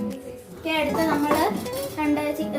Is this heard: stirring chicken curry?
yes